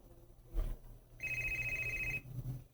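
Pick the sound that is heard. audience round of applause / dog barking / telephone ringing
telephone ringing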